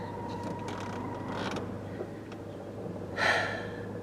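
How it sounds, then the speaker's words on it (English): A car's air conditioning runs with a steady blowing hum and faint creaking, ending in a brief louder hiss, close inside the cabin with no talking. "Oh, now we have that air conditioning noise."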